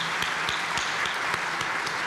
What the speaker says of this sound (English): I would like to ask you to give Tom Wywoody another round of applause,